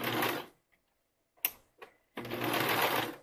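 A sewing machine top-stitches fold-over elastic on a bra in two loud, close bursts of rapid stitching, separated by a quiet pause with a couple of sharp clicks and a short whir.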